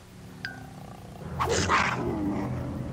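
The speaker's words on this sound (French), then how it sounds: "Gentil, le chat." A cartoon cat in a Polly Pocket episode lets out a rough rumbling growl, starting abruptly after a brief quiet moment and rolling on for over a second at close range.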